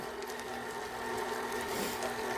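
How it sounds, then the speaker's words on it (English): A KitchenAid stand mixer shredding cooked chicken for green chili enchiladas: a steady, continuous motor whir with a rattling, churning texture that holds an even level throughout, no voices. "the KitchenAid's going to break it all down"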